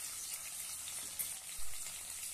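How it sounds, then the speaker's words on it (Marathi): Spices such as red chili powder, turmeric, garam masala and coriander powder sauté in a pan for a pea and cabbage curry, giving a faint, steady sizzle with a brief soft bump from stirring. "आणि छानपैकी परतून घेऊया।"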